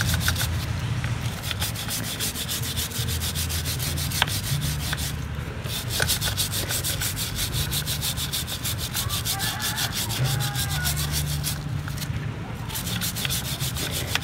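A brush scrubs the drive chain of a Honda Winner motorcycle during cleaning, making a continuous close-up rasping rub with quick repeated strokes and occasional brief pauses, and no one talks.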